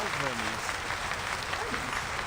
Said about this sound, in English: The applause stops.